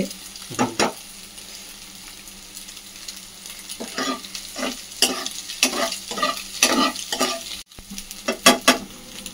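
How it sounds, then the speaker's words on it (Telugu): Eggs fry in a pan with a steady soft sizzle while a utensil stirs and scrapes in repeated bursts, close and fairly loud. "ఫస్ట్ ఎగ్స్ అయితే ఇలా వేపుకోవాలి."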